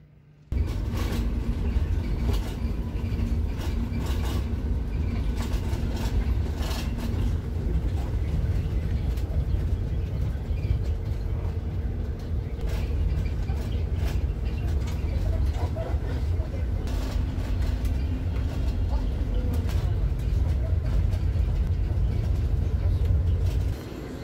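Steady low engine rumble and road noise fill the interior of a city bus in Portugal throughout the ride, constant and close, with faint clatters and occasional brief sounds over the drone.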